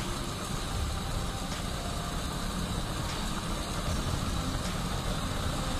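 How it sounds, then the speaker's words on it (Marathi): A car moves slowly along a single-lane road toward the Kashedi Tunnel on the Goa to Mumbai route, its engine a steady low hum with road noise running unbroken throughout. "सिंगल लेन मध्ये गाडी चालवायची आहे"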